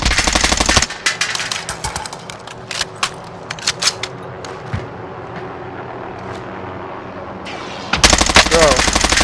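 Rapid, loud gunfire bursts in a first-person shooter video game, a dense volley at the start and another at the end, with scattered single shots and quieter battle noise between.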